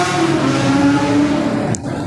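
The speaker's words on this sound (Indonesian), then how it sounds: "Kencang kali motor." A motorbike engine revs fast and loud nearby, holding a high droning note before a sharp click and a drop in level near the end.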